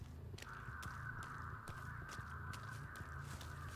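Crows caw in the Dead by Daylight video game on the Pale Rose map, a harsh, sustained cawing over a low, steady game ambience with faint rhythmic thumps.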